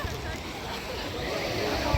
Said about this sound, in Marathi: लाटा पण मस्त आली आहेत भरती चालू वाटतं